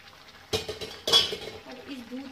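Milk being stirred into carrots in a pan, two distinct metal spoon scrapes and clinks against the pan followed by softer stirring, close and fairly quiet.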